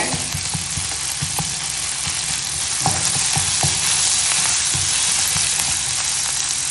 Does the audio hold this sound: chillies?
yes